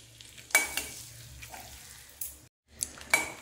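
Whole spices (cinnamon, cloves, cardamom and peppercorns) fry in butter in a wok with a soft sizzle, broken by sharp bursts of crackling, a brief quiet gap, then more spitting.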